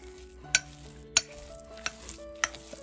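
A spoon mixes and smears shrimp and pork dumpling filling in a bowl, giving a few sharp clinks against the bowl over a soft, close, sticky stirring.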